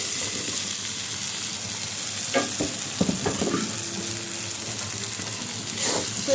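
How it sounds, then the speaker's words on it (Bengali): Spice paste frying with papaya and potato in a pan for a Bengali vegetarian lentil-and-papaya curry, giving a steady close sizzle with a few sharp stirring scrapes and clatters, no talk. "মশলাটা আমার ভাজা হয়ে গেছে এখন পেঁপে আর আলুটা দিয়ে দেবো"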